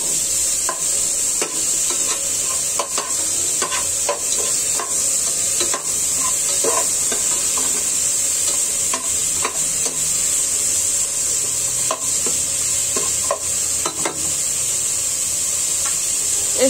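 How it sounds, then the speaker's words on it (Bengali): Small pieces of chopped meat frying in a pan for Bangladeshi mixed vegetables, a constant loud hiss of hot oil with repeated rhythmic scrapes and taps of a spatula stirring, close up. "ভেজে নিব ভালো করে।"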